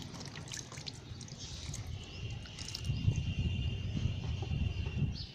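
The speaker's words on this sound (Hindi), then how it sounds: "ये हमने इसमें पानी दे दिया" Water poured onto freshly layered potting soil in a pot sown with bitter gourd seeds, a steady close trickle and soft splashing that thickens partway through, with a faint high insect-like tone in the background.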